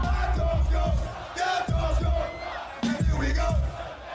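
A huge concert crowd at a DMX show roars and chants in rhythmic bursts, loud waves of massed voices rising and falling with short pauses between them.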